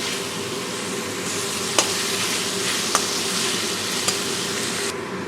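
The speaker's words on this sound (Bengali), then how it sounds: "ভালো করে আমি লাল লাল করে পেঁয়াজটা ভেজে নেব।" Onions fry in a pan until reddish, giving a loud, even sizzle that holds steady throughout, with a few sharp ticks of a utensil against the pan.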